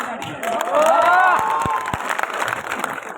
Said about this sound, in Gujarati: પત્રકારો અને પોલીસ મિત્રો માટે પણ એક તાળીઓ